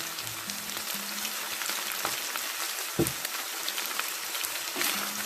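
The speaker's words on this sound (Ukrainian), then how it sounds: "перемішаю і ще трошки обсмажу пастою" Steady, dense sizzling of meat frying in a pan with tomato paste, with an occasional clink of a utensil stirring, close and continuous.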